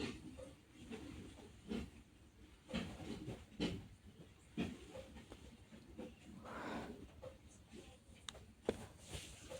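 Three small potatoes fry lightly in a pan with very little oil, giving a quiet, uneven sizzle with scattered crackles and pops. The sound comes in soft bursts over a low background.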